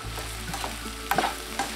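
Mushrooms sizzle in a hot pan, with a few brief scrapes of stirring close by.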